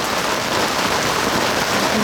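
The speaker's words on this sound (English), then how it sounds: "we arrived at Chrysler Park Marina just in time for this amazing rain" Heavy rain pours steadily at Chrysler Park Marina, a dense, even hiss of drops drumming on surfaces close by, with no voices.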